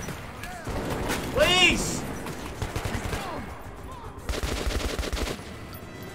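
Gunfire crackles in Metro 2033 Redux on Xbox One: scattered shots and then a rapid automatic burst near the end, mixed with game noise while a player talks over it.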